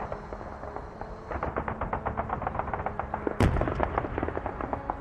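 Rapid gunfire in a World War II video game set in the Falaise Pocket, with fast repeated shots and one loud sharp blast partway through, all dense and steady with no talking.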